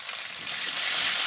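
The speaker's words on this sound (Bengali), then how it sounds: "কাঁচা লঙ্কাটা তেলের মধ্যে একটু নাড়াচাড়া করে নিচ্ছি" Slit green chillies fry in hot oil while being stirred for a ridge gourd and potato dish, a bright, continuous hiss that swells slightly louder toward the end.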